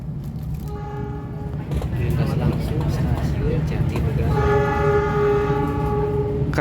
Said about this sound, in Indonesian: Kereta api Pangandaran melintas langsung di stasiun Jatinegara